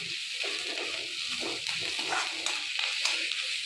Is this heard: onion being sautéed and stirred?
yes